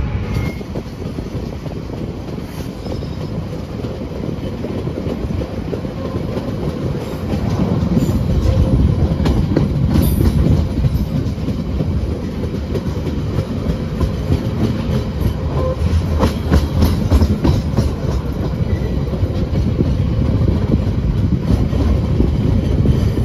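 KA Harina passenger train running fast on rails, heard from on board as a steady, loud rumble and clatter of wheels that swells midway and continues throughout without talk.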